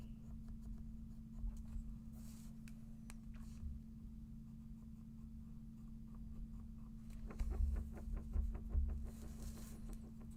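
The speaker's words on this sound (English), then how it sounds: "We'll use our pencil." Pencil scratching over paper while drawing a ghost heart, a steady soft scribbling close by with a denser burst of quick strokes near the end, over a constant low electrical hum.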